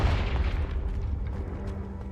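A fire spell blast from the video game Hogwarts Legacy bursts as a heavy, booming explosion that rolls into a rumbling decay over about two seconds.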